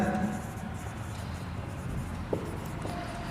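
Chalk or marker scratching across a board during a class 10 maths lesson, a soft steady scrape over room noise with one brief tap midway and some speech.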